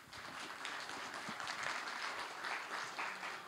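An audience at a conference on disability employment consulting applauds to welcome a presenter to the stage, giving dense, even clapping from many hands that holds steady throughout.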